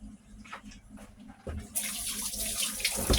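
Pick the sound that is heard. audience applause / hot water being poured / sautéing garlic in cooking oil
hot water being poured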